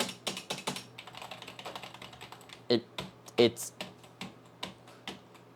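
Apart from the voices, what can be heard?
typing on a non-mechanical vintage Mac keyboard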